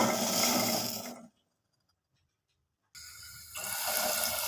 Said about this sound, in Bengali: সামান্য জল দিয়ে দিলাম